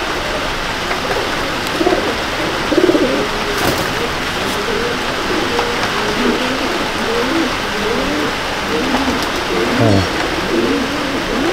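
Pigeons coo and murmur steadily throughout, a soft continuous chorus with no talking, close by in an enclosed space.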